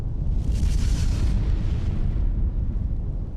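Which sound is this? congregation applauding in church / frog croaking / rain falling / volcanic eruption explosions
volcanic eruption explosions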